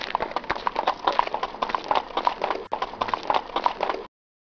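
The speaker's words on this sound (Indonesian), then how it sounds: "Coba kita dengar suara delman." Hooves of a horse pulling a two-wheeled delman cart clip-clop in a steady, brisk rhythm on a hard road, close and clear, continuing for several seconds before stopping.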